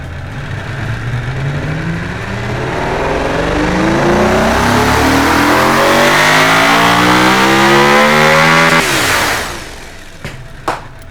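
A 1600 hp supercar engine in the Automation car-building game revs hard and loud, pitch climbing steadily for several seconds before cutting off sharply, followed by a few brief pops.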